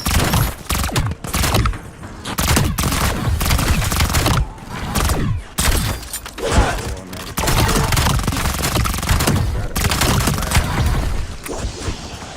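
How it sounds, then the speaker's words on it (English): Hip-fire gunfire in a video game: sustained bursts of loud, dense shots with brief pauses between volleys, running nearly the whole time with little or no talk. "Just do our hip fire."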